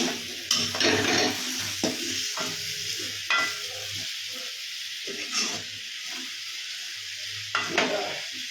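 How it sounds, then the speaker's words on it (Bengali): A utensil stirs food sizzling in a hot pan: a steady close frying hiss broken by several loud scraping strokes spaced a second or two apart, with no talking. "একটু নেড়ে নেব"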